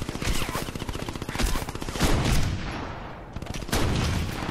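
Rapid automatic gunfire rattles in the video game Crackdown, dense bursts of close shots firing almost continuously with a brief lull before resuming, loud and without talk.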